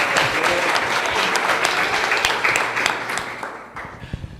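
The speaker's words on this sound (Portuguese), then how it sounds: "Palmas pro Rodrigo Maral." Loud, dense applause from a gathered audience in a church youth hall fills the whole stretch, thinning slightly toward the end with a few sharper individual claps.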